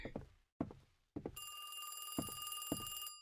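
A telephone rings in a horror video game, a bright electronic trill rising alongside several dull thunks and footstep-like knocks before and during the ringing.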